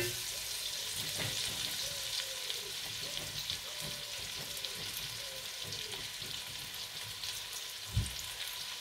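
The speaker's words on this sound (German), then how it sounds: "Bisschen braten lassen." Ingredients for a Portuguese rancho chickpea stew fry in a pan with a steady, close sizzle that continues throughout, broken by a single soft thump near the end.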